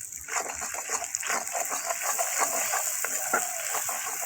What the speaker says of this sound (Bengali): আমি মশলা কষানো অল্প একটু জল দিই